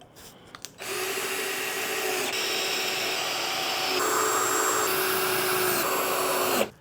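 Power driver sinking screws with washers into a wood frame, a loud continuous whirring drone about six seconds long with slight shifts in pitch partway through.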